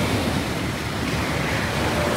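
Sea waves wash onto the shore between Ilyichevsk and Odessa, a continuous close surf hiss and rumble with a touch of wind, with no talk.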